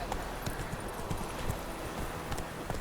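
The horse Roach gallops in The Witcher 3: Wild Hunt, a quick, rhythmic drumming of hooves on the ground, close and steady throughout, over low ambient background.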